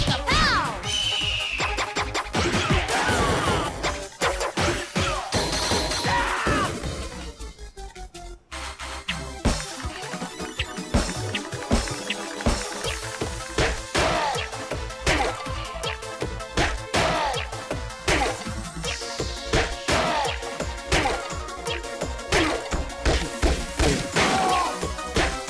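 Rapid punches and kicks on flying barrels in Rhythm Heaven Megamix make dense rhythmic whacks and crashes, played over busy game music with sweeping effects and steady percussive hits throughout.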